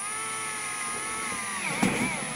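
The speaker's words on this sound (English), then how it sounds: "So drill out your holes." A power drill bores holes in a hydroponic container for a cloning and rooting setup, giving a steady, close motor whine whose pitch sags briefly near the end as the bit bites.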